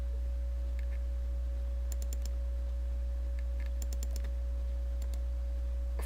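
A computer mouse clicks on a chart title in Excel, producing scattered crisp clicks, some in quick pairs and triplets, over a constant low electrical hum, with no speech.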